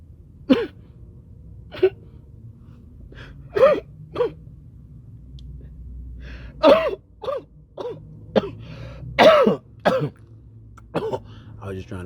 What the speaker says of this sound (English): I was just trying to cover up that cough.